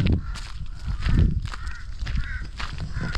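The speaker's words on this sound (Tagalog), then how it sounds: "Doon sa kubo maraming uwak" Many crows caw near a hut in the countryside, their harsh calls repeating irregularly at mid distance over rustling and household background noise.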